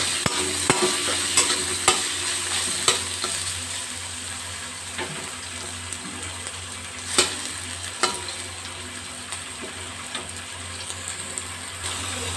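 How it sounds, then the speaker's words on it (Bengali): Soybean chunks fry in hot oil in a pan, a steady close sizzle with sharp scrapes and clicks of stirring scattered throughout, no voices. "সয়াবিনগুলোকে ভালো করে লাল লাল করে ভেজে আমি তুলে নেব"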